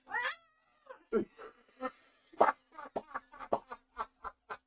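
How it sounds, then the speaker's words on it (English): A cat yowls and meows in distress while being bathed in a shower, a string of loud, close, strained cries repeating in quick bursts. "this cat's like making what noises did you say?"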